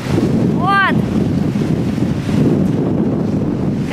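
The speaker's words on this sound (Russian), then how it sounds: "Сильный-сильный ветер. Слышите, не слышите?" Strong storm wind at sea near Athens, Greece, a loud, continuous roaring gust buffeting the microphone, with a brief high chirp early on.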